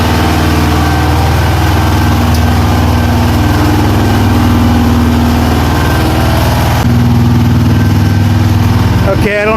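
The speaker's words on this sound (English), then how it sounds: "You got one main engine on this side, one main engine on this side." A boat's main engines and generators run together in a steady, loud, low mechanical drone with a dense hum that persists throughout, and no one speaks.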